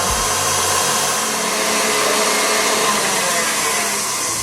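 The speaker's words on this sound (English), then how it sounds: "so we've been mixing for 5 minutes. It's now to take our batter off our mixer" An electric stand mixer whirs steadily and loudly while beating vegan brownie batter, its motor noise continuous and unchanging throughout.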